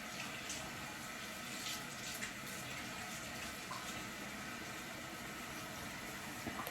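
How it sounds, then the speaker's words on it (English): A vegetable being rinsed under a running kitchen tap, a steady moderate hiss of flowing water continuing unbroken, close and alone without talk. "then I just rinse it off, make sure there's no seeds"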